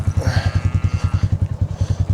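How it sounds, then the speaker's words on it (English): A loud close tractor engine chugs at a fast, regular low thump, steady and rhythmic throughout. "I had to go grab the tractor"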